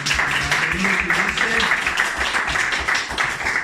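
A church congregation gives a strong round of applause, steady clapping from many people close by, with a voice briefly audible beneath it.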